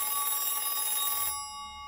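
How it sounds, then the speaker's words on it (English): A telephone bell rings loudly and close for just over a second, then cuts off, leaving a faint hum, set during a meal with Fidel Castro. "In the middle of the meal, a phone call."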